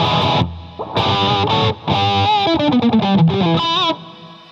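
Electric guitar played through a Joyo DC15S practice amp with the reverb at maximum, distorted chords and a descending run of notes washed in a long reverb tail, loud and close.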